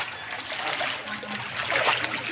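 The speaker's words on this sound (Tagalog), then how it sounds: "Nandito kami sa baha." Flood water in Bulan, Sorsogon runs and trickles close by in a steady, moderately loud wash, with a few light splashes swelling near the end.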